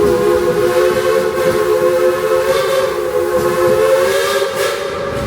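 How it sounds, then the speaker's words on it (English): A loud steam train whistle on the Frisco Silver Dollar line at a theme park holds one steady, multi-toned blast for several seconds, with a hissy rumble of steam underneath. "Y'all, that whistle is just for you."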